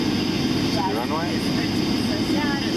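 Steady broadband roar of jet airplane engines inside a Sunwing passenger flight landing in Ottawa, a constant cabin drone with low rumble throughout, while people talk quietly over it.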